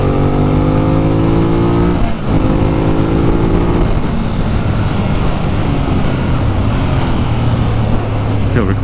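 A 2018 Ducati Monster 821 rides at speed, its engine a loud, close drone with rising and shifting pitch through gear changes, wind roar throughout.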